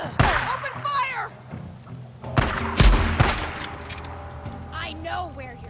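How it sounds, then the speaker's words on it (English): Gunfire in the Days Gone game: several loud close shots and heavy thumps in bursts, with shouting voices and yelled speech over and between the blasts. "Open fire!"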